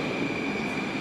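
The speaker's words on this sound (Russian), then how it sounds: "Состав 81-765 серии, электродепо Нижегородское. Мы его встречаем на параде." A Moscow metro train of the 81-765 series from Nizhegorodskoye depot, arriving at a train parade on the Big Circle Line, with a loud, steady rolling roar and a sustained high whine throughout.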